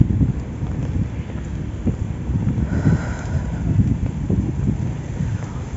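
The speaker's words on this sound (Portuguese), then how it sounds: "De vez em quando o vento vem e tenta levar meu guarda-chuva." Gusty wind buffets the microphone in a loud, rumbling roar that swells and eases, with no voices, on a cold 9-degree May day in Gramado, Rio Grande do Sul.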